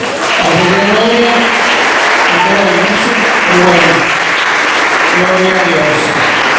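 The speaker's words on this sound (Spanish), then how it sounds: "fuerte aplauso a Dios" Sustained, dense applause fills a church service, loud and continuous throughout, with a voice speaking over the clapping.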